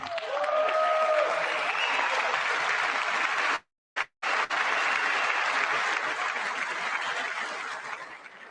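Applause fills a legislative chamber during a State of the Union address, a dense steady roar of clapping that cuts off abruptly for a moment and then resumes at full strength.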